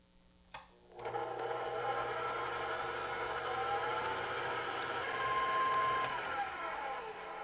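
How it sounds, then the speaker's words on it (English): An electric mixer whirs steadily on medium speed whipping 100 grams of egg whites, starting after a brief click and holding a constant close motor hum for several seconds. "So I have here 100 grams of egg whites. We're going to put this on medium speed until it starts getting frothy."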